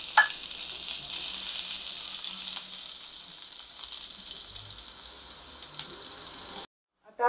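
A chopped medium onion frying in a pan for palak paneer, giving a soft, even sizzle with a few faint stirring knocks before it cuts to silence near the end.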